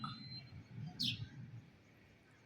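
A bird calls from a high perch above a terrace garden, giving one short, bright chirp near the middle over low background rumble.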